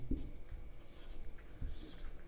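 Pen scratching on paper while writing notes by hand, soft close strokes in short bursts with faint background hiss.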